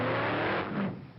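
A Jeremy Clarkson-driven GMC Syclone pickup revs hard while practising a launch start, a loud, close engine roar that holds steady and then fades slightly at the end.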